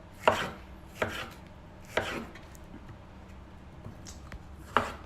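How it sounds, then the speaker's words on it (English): A knife cuts food into quarter- to half-inch slices, each stroke landing as a sharp, close chop on the board. Five separate cuts come at uneven intervals against a quiet background. "we're just going to kind of cut it into about 1/2 inch, 1/4 inch slices"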